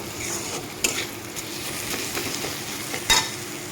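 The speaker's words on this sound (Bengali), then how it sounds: "মশলার সাথে আমি এইভাবেই ডালটাকে আমি আর একটু টাইম পাঁচ মিনিটের মতো আমি এভাবে নেড়ে চেড়ে নেব" Moong dal being stirred with spices in a pan on the stove gives a steady low sizzle. A few sharp scrapes and clinks of the spoon against the pan stand out, and nobody speaks.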